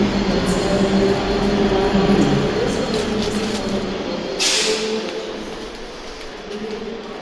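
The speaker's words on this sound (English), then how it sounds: "now let's take a look at a sprinter train" An old, worn Sprinter diesel train in Scotland, a loud, steady rumbling drone up close with a brief hiss partway through, fading slightly toward the end.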